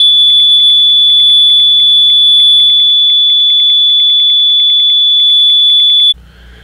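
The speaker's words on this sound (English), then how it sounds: "We will now test the operational alarm with a weak 1 microcurie cesium-137 source." A DSM-501 gamma radiation detector sounds its operational alarm when exposed to a weak 1 microcurie cesium-137 source, giving a loud, piercing high-pitched electronic tone that rapidly pulses and holds steady for about six seconds before cutting off.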